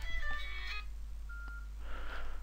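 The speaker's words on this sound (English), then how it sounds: "Oh dear, phone." A phone rings with short electronic beeping tones, a burst of quick tones followed by a single brief beep, fairly faint over a low steady hum.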